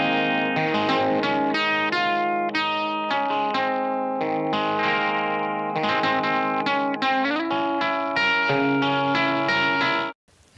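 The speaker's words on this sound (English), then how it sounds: "so let's listen to that dry guitar sound." Dry, jangly electric guitar with a 1960s Vox character plays a focused, skinny rhythm-melody part of bright strummed chords and picked notes, loud and steady for about ten seconds before cutting off.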